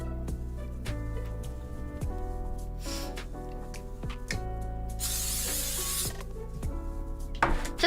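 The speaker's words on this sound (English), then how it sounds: "Just cooking spray it" Cooking spray hisses into a pan in a home kitchen during lunch prep, a long steady spray burst, with clatter and clicks of utensils around it.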